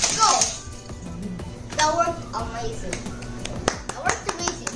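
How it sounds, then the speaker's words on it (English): A few hand claps at a children's Hot Wheels play session, brief sharp taps scattered through the clip, close and fairly quiet, mixed with a voice and light handling noises. "Clap, clap, clap, clap."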